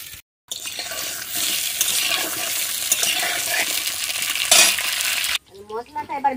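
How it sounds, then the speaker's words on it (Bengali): Pointed gourd (potol) sizzles and crackles steadily in hot oil in a wok, a dense, loud frying hiss that runs for several seconds after a brief silence, then cuts off abruptly and is followed by a short tonal sound. "পটলগুলো ভেজে নেব।"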